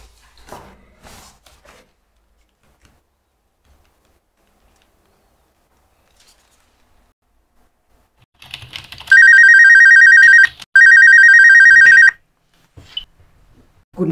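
An office telephone rings twice in long electronic bursts with a short gap between them. Faint keyboard typing is heard before the ringing in an otherwise quiet room.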